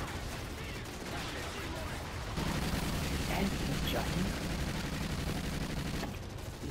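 Rapid video game gunfire, a dense continuous fusillade like automatic weapons, steady and fairly loud across the whole stretch, with a heavier rumbling layer joining partway through.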